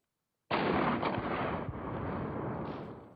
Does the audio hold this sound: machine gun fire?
yes